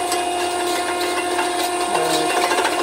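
A machine grinds Korean red ginseng into powder with a steady, loud, gritty mechanical whine and rasping churn running continuously, with no voices.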